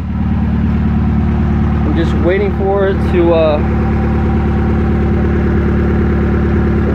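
A freshly built car engine idles steadily at an even, low rumble throughout, with someone speaking briefly over it partway through.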